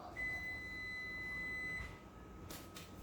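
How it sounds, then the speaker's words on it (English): A kitchen timer beeps for potatoes being cooked for potato salad: one long steady electronic tone, fairly clear, cut off sharply with a couple of faint knocks afterwards. "that was my timer for the potatoes"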